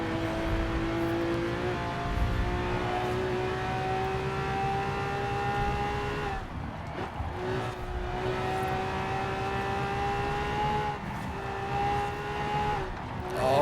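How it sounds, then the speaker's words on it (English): A Lamborghini Aventador engine in Forza Horizon 4 holds a loud, steady high drone that climbs in pitch through the gears, with a brief lift and dip before building again, heard alone and up close. "That engine is just magnificent."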